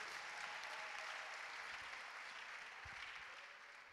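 A church congregation applauds steadily for four seconds, a dense, even wash of clapping at an evangelistic service that tapers slightly toward the end.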